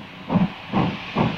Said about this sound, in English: Steam engines have a personality, and there's the sound.